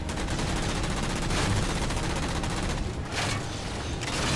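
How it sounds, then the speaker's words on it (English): Dense, continuous gunfire and explosive rocket blasts from the Halo 4 campaign, a sustained barrage fought down a long corridor, loud and unbroken with a couple of heavier bursts standing out. "We're going to take them all out in this long corridor, using a combination of guns and rockets."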